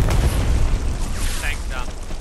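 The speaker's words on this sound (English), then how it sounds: "Satchel's on the tank, get away from it." A satchel charge detonates on a tank in Hell Let Loose, a deep, heavy boom with rumbling low-end debris that fills the moment, followed by a couple of faint higher pops amid game noise.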